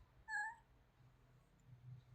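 A cat with cat flu gives one short, faint meow early on, then only a low background hum remains.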